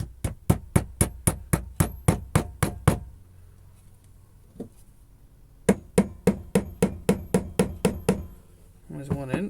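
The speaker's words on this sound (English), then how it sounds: "And I will get one of my little dowels and just tap them in." Small wooden dowels being tapped into glued holes for a homemade propagation station, two quick runs of sharp, evenly spaced close knocks, about ten each, separated by a quiet pause with a faint voice.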